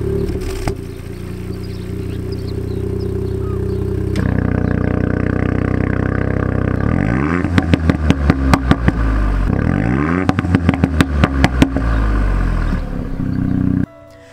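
Ford Fiesta ST engine revving with the exhaust valves open, a steady idle that steps up louder before a series of sharp, rapid blips and throttle revs in two clustered bursts, close and clear, then cutting off abruptly.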